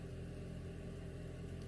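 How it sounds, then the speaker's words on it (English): A car engine idles nearby at a snowy campsite along the Pacific Crest Trail near the Canadian border, a low steady rumble with no voices. "The people next to me keep getting in their car and turning it on"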